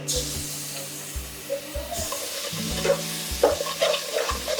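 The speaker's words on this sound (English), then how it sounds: "give it a stir continuously" Plain yogurt is stirred into egg biryani masala, giving a steady sizzle with scraping spoon strokes and repeated low thumps of the pan, close and fairly loud, with no talking.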